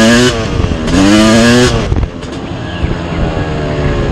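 A loud, close two-stroke Yamaha YZ 250 dirt bike engine revs hard, its pitch climbing and dropping in sharp bursts before settling into a rough idle.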